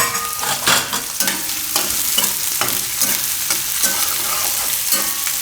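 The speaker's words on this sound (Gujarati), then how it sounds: "તો ડુંગળી થોડીક વાર પકાવી લઈશું આપણે આમાં" Onions sizzle steadily in a hot pan while a utensil stirs and scrapes in a repeating rhythm, close and fairly loud.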